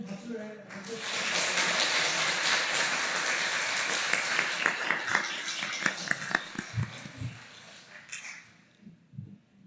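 A church congregation applauding during a Sunday service, the clapping swelling quickly, holding dense for several seconds, then thinning into scattered claps as it fades out.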